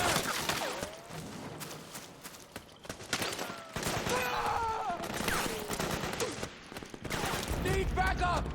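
Dense bursts of suppressing gunfire in the war game Metal Gear Solid 4: Guns of the Patriots on PS3, fusillades crackling throughout with brief lulls, while soldiers shout over the shooting.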